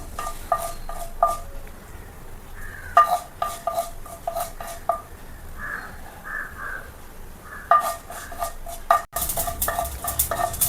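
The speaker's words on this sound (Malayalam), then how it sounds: "കടുക് പൊട്ടുന്നുണ്ട്" Mustard seeds crackling in hot oil in a pan, with sharp pops scattered through a low sizzle and bursts of utensil clatter, close by.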